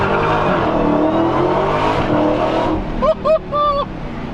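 Loud, deep engine roar from an 840 hp Dodge Demon muscle car being driven, a dense sustained rumble with a few brief higher revving tones near the end.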